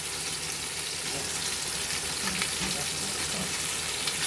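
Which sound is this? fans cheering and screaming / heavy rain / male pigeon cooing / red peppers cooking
red peppers cooking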